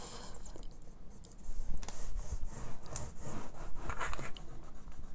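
Cardstock for a 3D paper house is scored with a tool, producing close, uneven rubbing and scratching strokes, quiet at first and then more continuous and scraping.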